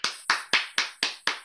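Six evenly spaced, sharp hand claps from a single nearby person, about four per second, for the speakers at the end of an online talk; no other sound.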